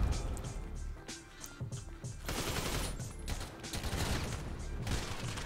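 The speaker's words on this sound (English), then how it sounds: "I'm shooting a lot of people," Video game shotgun fire: repeated heavy shots and nearby gunfire in a chaotic firefight, fairly close, with sustained rattling bursts building through the middle and continuing to the end.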